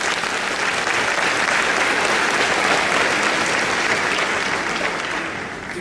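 Sustained audience applause at a law school commencement ceremony, a dense, steady wash of many hands clapping throughout before tapering slightly at the end.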